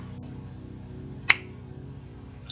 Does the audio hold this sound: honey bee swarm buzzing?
no